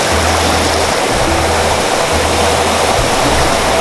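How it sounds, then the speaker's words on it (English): A river rushes around rocks in a loud, constant roar of broadband water noise, heard very close from a rock midstream. The flow holds steady throughout with no voices. "I'm sitting on a rock in the middle of a river"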